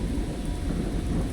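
A thunderstorm in the survival game Miscreated, a heavy rumble of thunder over constant rain that fills the whole moment, loud and steady with no talking.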